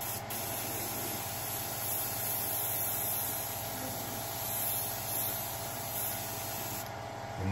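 Continuous, even hiss of spray paint going on in light coats over a Jordan Travis Scott 1 sneaker, close by and uninterrupted for several seconds.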